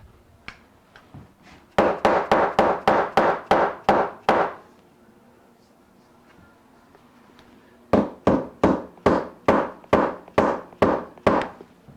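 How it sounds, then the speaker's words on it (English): A hammer taps wood on a replica 1964 Gibson ES-335 guitar being built, in two quick runs of about ten sharp strikes each, separated by a quiet pause, close and crisp. "Now we can pop that down with a hammer."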